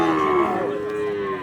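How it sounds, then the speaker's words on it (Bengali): A Sahiwal cow moos loudly and close at a crowded cattle market, one long drawn-out call that slowly falls in pitch and fills the whole moment, with faint crowd noise beneath it. "এই পাশে একটা ফ্রেশ সাহিওয়াল জাতের একটা গরু দেখতে পারতেছি"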